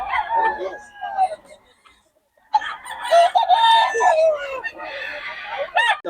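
A rooster crows loudly nearby, then after a short quiet gap, chickens burst into agitated clucking and another long crow, with a few sharp squawks near the end.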